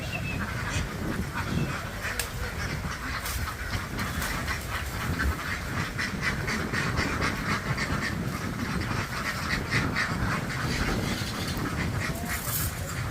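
Thousands of ducks in a field crowd onto a truck, their quacking dense, loud and continuous, a chaotic overlapping chorus with no pauses.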